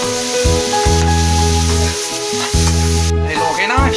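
Shrimp sizzles loudly in hot oil with tomato, a continuous close hiss and crackle punctuated by stirring.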